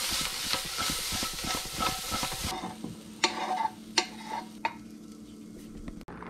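Corn kernels toast in a hot pan with a dense crackling sizzle and stirring scrapes, then the noise drops to scattered sharp pops and clatters, with no voices.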